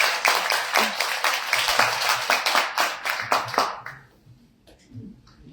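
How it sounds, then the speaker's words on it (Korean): Applause and clapping from an audience at a public policy meeting, a loud dense burst of many hands that runs for about four seconds and then stops abruptly, leaving a quiet room. "큰 박수 부탁드리겠습니다"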